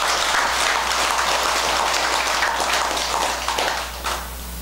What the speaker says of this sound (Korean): 이해하셨으면 박수를 한번 쳐봐야지.